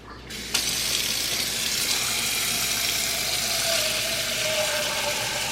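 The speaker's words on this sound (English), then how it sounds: "Let's fill it with water." A container being filled with tap water in a home kitchen, a steady hissing stream that starts abruptly and pours continuously, its pitch rising slightly as the vessel fills.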